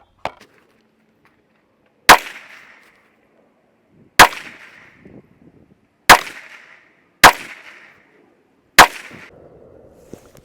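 Five sharp gunshots from a Ruger SFAR rifle firing X-Tac 7.62 NATO ammunition crack out roughly two seconds apart, each loud and close with a brief ringing tail, separated by near silence.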